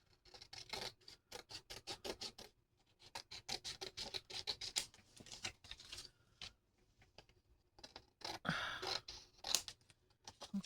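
Scissors cut through paper or craft material in a rapid series of crisp snipping clicks. The cuts come in bursts separated by short pauses, close and fairly faint.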